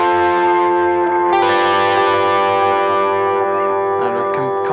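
An electric guitar played through a humbucker pickup with heavy distortion and effects, a sustained chord ringing loud and steady, briefly re-struck and shifting near the end.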